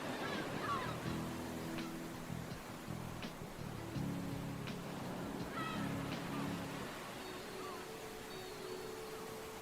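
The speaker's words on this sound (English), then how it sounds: "so we can hear the sounds of the sea" Sea waves wash continuously in a game's island setting, a steady surf wash beneath quiet background music with honking bird calls and occasional clicks, moderately soft.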